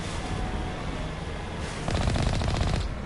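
Automatic weapon fire in Mass Effect Legendary Edition, a dense rapid burst of shots that swells louder partway through, set against a steady rumbling background.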